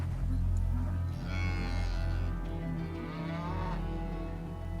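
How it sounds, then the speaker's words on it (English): A cow close to giving birth, feet already showing, moos in a long, loud, drawn-out call on a mountain farm, the low lowing swelling and sustained across the whole stretch with a second rising bellow toward the end. "I got a cow here about ready to give birth"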